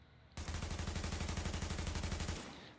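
Automatic AUG A3 rifle fire in the video game The Division, one loud sustained burst of rapid, evenly spaced shots lasting about two seconds, then a fading tail, with no speech.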